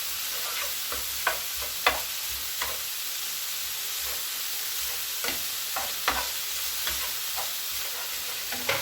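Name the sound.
stirring a mixture in a bowl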